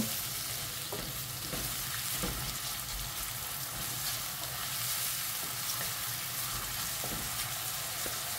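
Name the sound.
onions frying with salt in a pan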